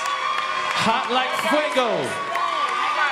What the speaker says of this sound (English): Applause. Applause. Let's go.